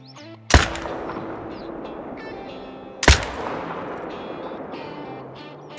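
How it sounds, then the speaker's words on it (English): Two loud rifle shots ring out a few seconds apart while hunting red deer in theHunter: Call of the Wild, each a sharp crack trailed by a long rolling echo. "Pretty easy shooting on that one."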